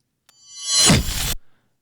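A sword impact sound effect for an anime abridged edit: one sharp swelling whoosh that builds into a bright, harsh crash, held briefly before cutting off abruptly, followed by a faint tail, alone with no talking.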